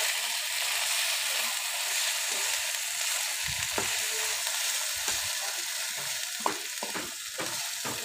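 Onion and stone-crushed green chilies fry in a pan with a dense, continuous sizzle, broken by occasional low scrapes and clacks of a stirring spoon.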